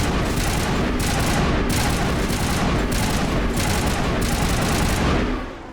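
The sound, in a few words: burst gunfire from a video game, Mass Effect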